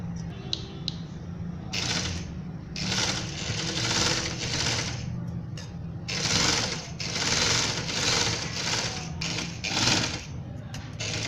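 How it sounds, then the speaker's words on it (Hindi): A sewing machine stitches the armhole of a baby dress in several quick bursts of rapid clattering separated by brief pauses, close and loud, with no talking. "अब आपने आर्म होल को भी इसी तरीके से सिलाइयाँ लगा लेनी है।"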